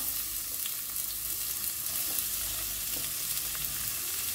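Chopped onions fry in a pan for a Goan clam dish, giving a steady, dense sizzle that stays close and even throughout, with no voices over it.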